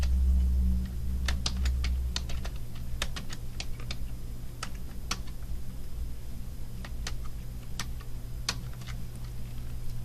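Password keys tapped on a computer keyboard in short irregular bursts of crisp clicks, close and clear over a steady low electrical hum.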